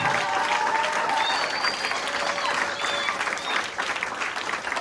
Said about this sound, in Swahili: pigiani hawa wazee na mama makofi